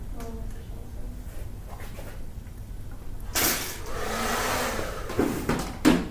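A hair dryer blasts through short gelled hair, switching on partway through with a strong, steady rush of air close up; quiet voices and a few soft knocks come before and under it.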